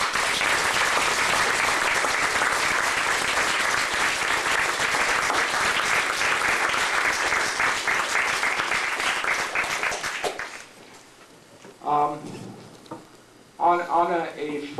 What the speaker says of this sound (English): can you please give her a round of applause for helping us?